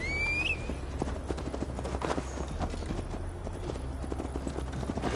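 Horse hooves clip-clopping at a steady riding gait in Assassin's Creed Valhalla, a continuous rhythmic patter over ambient game sound with a brief whinny-like tone near the start.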